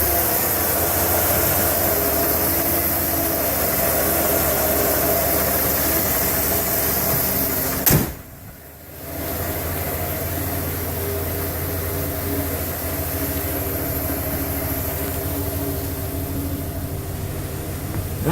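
A 1991 Ford F-150 XLT Lariat with a 5-liter V8 idles after a cold start, a steady close rumbling drone broken by one brief dip and a click midway.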